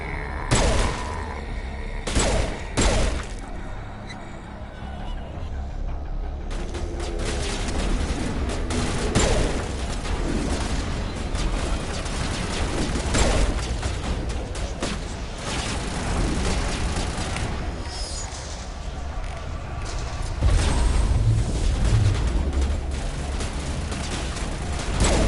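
Pistol gunfire in Mass Effect, a couple of sharp shots at the start followed by ongoing combat crackle and scattered bursts of weapon fire with booms toward the end.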